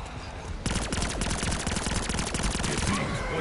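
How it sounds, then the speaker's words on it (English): Sustained rapid gunfire from a video game boss fight, with dense, loud bursts of shots hammering nonstop for a few seconds after a brief quieter lead-in. "How many times do I gotta shoot him?"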